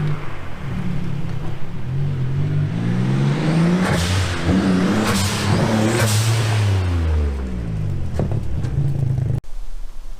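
A turbocharged car with an aftermarket blow-off valve revs hard, the engine climbing and falling in repeated loud surges while the valve vents boost pressure with sharp hissing bursts between throttle blips.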